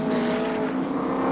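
Steady, loud engine drone of a touring car at the 1986 AEC round at Calder Park as it slides onto the straight, a sustained tonal roar with no break across the short stretch.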